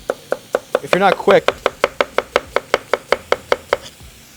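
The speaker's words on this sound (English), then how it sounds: "I'm going to quickly slice up an onion." A knife slicing an onion on a cutting board, a quick even run of about fifteen sharp knocks, close and crisp, with a brief spoken remark partway through.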